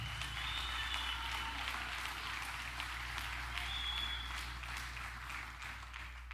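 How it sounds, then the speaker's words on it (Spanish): Applause from a church congregation during a sermon, a steady dense wash of clapping sustained throughout at moderate level, with a low hum beneath and no speech over it. "Dale un aplauso al Señor"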